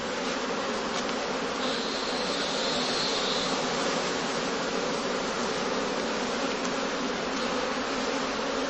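Honey bees hum around straw skeps on a heathland heather site in 1978, a dense, steady, unbroken buzz filling the whole stretch with no pauses and no voices.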